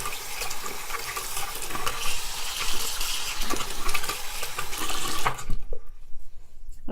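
Running water splashes and gurgles close by as makeup brushes are rinsed, with soft rubbing and clinks in the stream, fading to quiet near the end.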